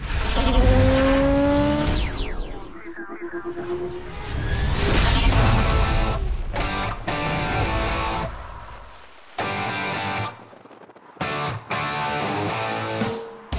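A Volkswagen Golf GTI with a 2-liter turbocharged four-cylinder engine revs and accelerates loudly in short, abruptly cut bursts, with rising engine tones, tire noise and whooshes as it passes close by.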